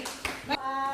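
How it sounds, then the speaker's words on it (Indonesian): Brief applause in a classroom, a few hand claps in short bursts heard close by, with a teacher's voice and background room noise around them. "Tepuk tangan dulu."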